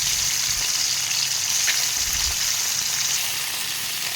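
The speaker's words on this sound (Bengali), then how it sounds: "আমুদি মাছের লবণ হলুদ মাখিয়ে তেলের মধ্যে ভালো করে ভেজে নেব" Amudi fish coated in salt and turmeric frying in hot oil gives off a steady, close sizzle and crackle that runs unbroken throughout, with no voices.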